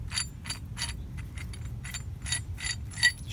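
A metal clevis pin being unscrewed from an off-road recovery hitch clevis gives a run of quiet, evenly spaced ratcheting clicks and clinks over a low background rumble.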